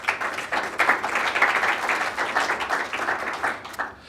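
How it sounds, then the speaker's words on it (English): Warm applause from a conference audience at GDCC 2014 welcoming speaker Ryan Singer, a steady patter of many hands fading out at the end. "would you please give a warm round of applause to Ryan Singer"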